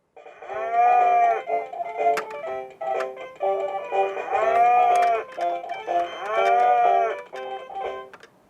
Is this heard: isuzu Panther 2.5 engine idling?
no